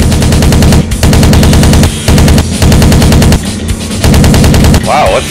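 Rapid machine-gun bursts from a WWII fighter in a flight combat game featuring Spitfires and Hurricane IIC aircraft, loud and close, in about four sustained bursts separated by short gaps.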